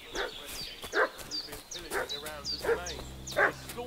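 Dog barking and fussing in Kingdom Come: Deliverance 2, a few sharp yelps and whimpers spaced through the stretch over a muffled game ambience, with a voice talking alongside.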